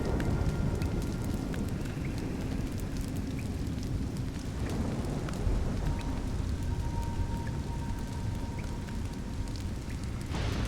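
Steady rain falling in the game Nioh, a continuous dense hiss of downpour with a low rumbling wash underneath, holding an even level throughout with no voices.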